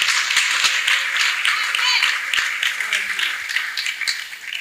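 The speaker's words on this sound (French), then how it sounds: "Acclamons encore pour lui." An audience claps and cheers after a testimony about a miracle baby, brisk steady applause filling the room, close and fairly loud, with scattered voices mixed in.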